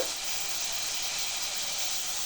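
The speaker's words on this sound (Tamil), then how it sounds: "இப்போ கொஞ்சம் நல்லா வதக்குவோம்." Chopped onions with rock salt sautéing in a pan give a steady, close, even hiss with no talking over it.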